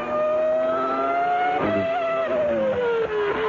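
Formula 1 race car at the 1997 Brazilian Grand Prix on its final formation lap, engine whining loud and steady with a high rising-and-falling pitch and brief throttle blips midway.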